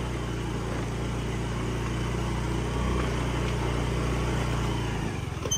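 A vehicle engine holds a low, steady drone as it climbs a rough road toward a stone crusher near Osargaon Lake, then shifts in pitch and roughens briefly near the end, with no talk.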